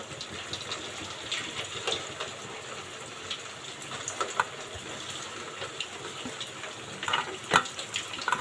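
Gulab jamun balls made from semolina fry in hot oil, giving a steady close sizzle with scattered pops and crackles and a few louder spits near the end, with no talking.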